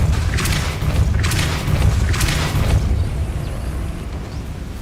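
In Hogwarts Legacy, the Depulso spell is cast with a series of deep booming bursts, three rumbling blasts with crackly tails over a low sustained roar, loud and close, fading toward the end with no talking.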